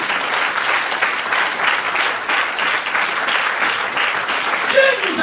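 A church congregation claps steadily and loudly throughout, a dense roomful of applause during a worship service, with a voice briefly rising near the end.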